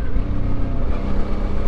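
A dirt motorcycle on a Motoz Tractionator Adventure tire revs and accelerates outdoors on a dusty trail, its engine a steady, loud, close drone throughout, with no voices.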